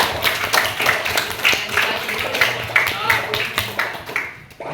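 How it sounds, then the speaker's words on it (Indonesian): An audience applauds competition winners in a steady, close stretch of rhythmic clapping, with a voice speaking over it. "Mari kita berikan aplaus untuk semuanya"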